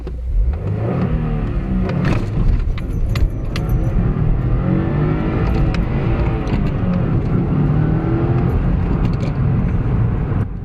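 A car engine in the Motor Madness racing game revs loud and continuous, rising and falling in pitch as gears shift up and down, with no talking over it.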